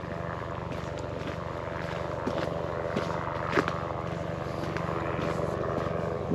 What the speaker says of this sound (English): I can hear that helicopter, but I can't see it.